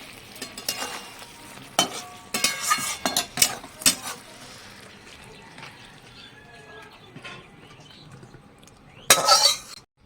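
A spoon stirs and scrapes a pan of ridge gourd and egg curry after a pinch of garam masala goes in. Clinks and scrapes come in irregular bursts, with a louder clatter near the end and quieter gaps between.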